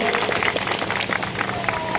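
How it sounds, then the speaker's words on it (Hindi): A crowd at a martyr's statue unveiling ceremony claps loudly in honour of a soldier's widow, with dense, continuous applause mixed with crowd noise and some voices. "जोरदार तालियां हो जाए वीरांगना के लिए"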